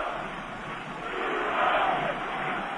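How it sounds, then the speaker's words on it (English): A baseball stadium crowd at a 2006 ALCS playoff game between the Tigers and Athletics roars, a loud, sustained mass of voices that rises toward the middle, with no talk over it. "And listen to this crowd."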